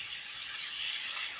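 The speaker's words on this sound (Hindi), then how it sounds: "इसमें हम थोड़ा सा पानी ऐड करेंगे।" Water pours steadily into a pot holding onion, ginger and garlic paste, a soft continuous hiss of splashing liquid throughout, close and fairly quiet, with no talk.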